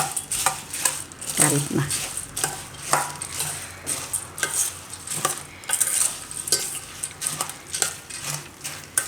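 A spoon stirs puffed rice (mamra) into yogurt in a bowl, giving a steady run of soft scraping, clinking strokes close by, with a brief spoken word in the middle.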